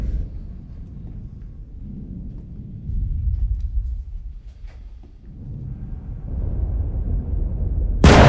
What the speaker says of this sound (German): das ist lustig, wenn es so donnert